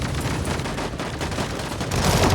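Heavy sustained gunfire from the game Sausage Man during a 10 vs 10 match, a dense, loud, continuous barrage of overlapping shots that swells slightly louder near the end, with no voices.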